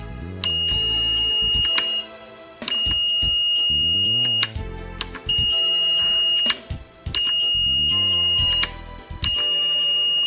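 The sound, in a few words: multimeter continuity test beeping on Dreamcast power switch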